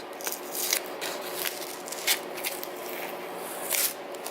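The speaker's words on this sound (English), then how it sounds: "We'll pull the tape off this one too, so we can get the right piece at least." Masking tape is peeled off a freshly painted throttle body in several short ripping and crinkling bursts, close and fairly quiet, with no talking.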